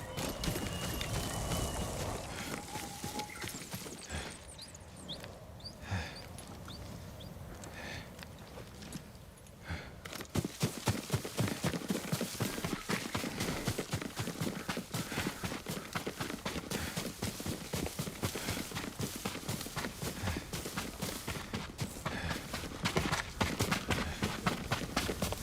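A horse gallops in the Ghost of Tsushima video game, steady rapid hoofbeats pounding throughout, growing louder and denser after a quieter opening stretch, with no talking over it.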